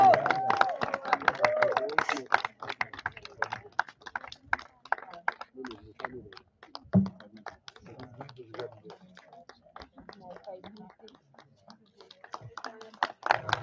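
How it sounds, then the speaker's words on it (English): Scattered clapping from a convocation crowd at the Himalayan Institute of Alternative Ladakh, quick irregular claps fading in and out with murmured voices, busier at the start then thinning into sparse taps. "Give them a big round of applause, please."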